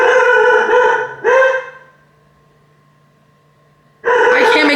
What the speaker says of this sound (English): it's 12 right now and he's barking this way